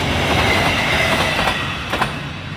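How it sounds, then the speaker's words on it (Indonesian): A train rumbling past close by, a continuous loud roar of wheels on rails with faint clacking, steady throughout. "Nggak tahu ini kereta api apa ini"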